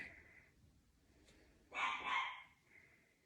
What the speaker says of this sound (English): That's Teddy barking away